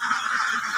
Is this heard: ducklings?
yes